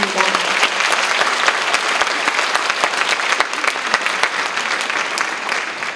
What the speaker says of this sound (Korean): 구미 시립소년소녀 합창단 친구들에게 따뜻한 감사의 박수 한 번 더 부탁드립니다